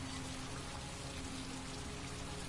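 Steady rain pours down in the video game Heavy Rain, a dense, even hiss of falling drops and spatter on surfaces that holds at a constant level with no talking over it.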